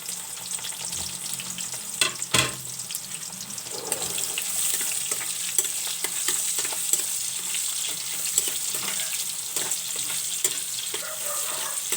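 Garlic and ginger frying in a pan for a pancit gisado, a steady close sizzle with occasional stirring clicks and scrapes throughout.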